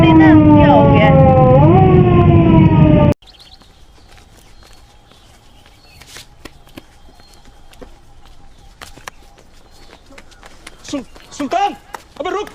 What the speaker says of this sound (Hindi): मोटरसाइकिलों को कसम से ऐसे ऐसे म्यूज़िक लगाए हुए